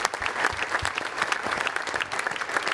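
A studio audience claps steadily for a guest panel on a football fan chat show, a full, even round of applause lasting a few seconds with no voices over it.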